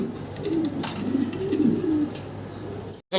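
A large black fancy pigeon coos nearby, a low throaty rolling coo repeated as it turns around, clear over faint background noise.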